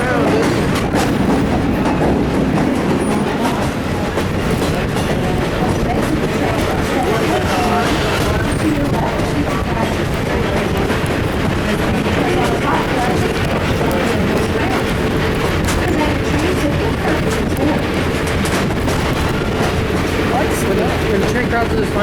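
Train running on the old Western Maryland line, a continuous loud rumble with steady clickety-clack of wheels over rail joints and wind noise throughout, with people talking over it.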